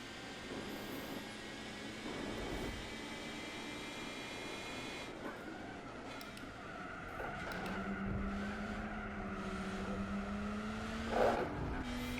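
Race car engine droning in Gran Turismo 4 near the Andretti Hairpin, with a steady hum, a rising whine and tire squeal through a corner, moderately loud and with no voices.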